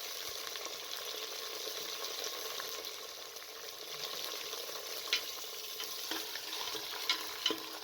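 Beef frying in a pan with lightly browned onions, giving a soft, even sizzle with occasional faint clinks near the end, moderately quiet and with no voices.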